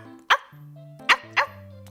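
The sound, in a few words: voice imitating a dog barking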